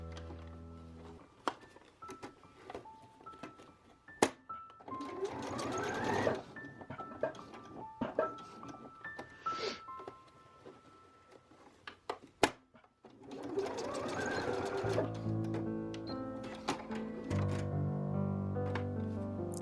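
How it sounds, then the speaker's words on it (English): Sewing machine stitching a box across the overlapped elastic ends of a waistband for checkered bow pants, heard in a few short motor bursts among light handling clicks, with a steady tonal sound near the end. "we're just going to sew a box over this edge to lock it into place and hold it together"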